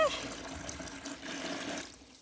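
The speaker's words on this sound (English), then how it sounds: "Hot water." Hot water running from a tap into a sink or bucket, a splashy gush that starts loud, tapers slightly and cuts off near the end, close by, with a brief voice at the start.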